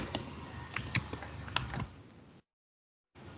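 Quick, irregular clicks of a computer keyboard as a name is typed into a form during software testing work, close and clear for about two seconds, then trailing into near-silence.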